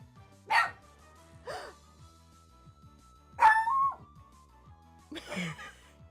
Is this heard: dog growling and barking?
yes